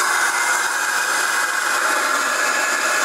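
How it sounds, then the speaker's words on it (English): Steady, loud broadband hiss and whoosh of a vacuum extraction system running on a bench grinder setup for knife sharpening, constant and close with no speech. "So I'm going to stick the vacuum on now."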